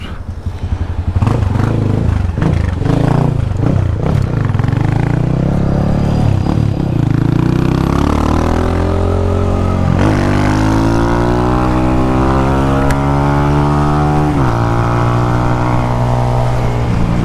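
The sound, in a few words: 150cc motorcycle riding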